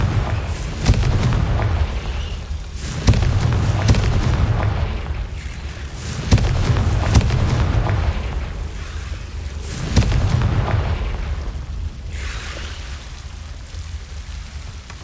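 The Confringo blasting spell in Hogwarts Legacy sets off repeated deep booming explosions, about one every few seconds. Each lands with a sharp impact and a rumbling tail, and the blasts are loud and close.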